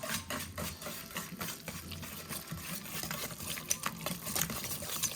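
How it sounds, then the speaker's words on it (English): A spoon stirs oregano into sauce for sweet potato lasagna, giving soft, faint scraping and wet swishing over a few seconds. "And then we're gonna give this a nice stir."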